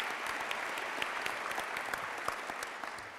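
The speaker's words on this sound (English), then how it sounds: "you should give him a round of applause for that" Audience applause for the mayor at a festival luncheon, a steady dense wash of many hands clapping that holds evenly throughout, with no talk over it.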